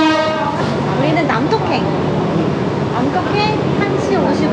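Train at a Thai railway station near Bangkok, with a sustained horn-like tone at the start over a steady, loud rumble of rolling stock throughout. People talk nearby.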